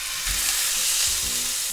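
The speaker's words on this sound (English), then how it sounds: "I'm gonna put the meat and sear the surface" Meat for roast beef sears in about a tablespoon of hot frying oil in a pan, a steady close sizzle that swells briefly as pieces settle, with no talking.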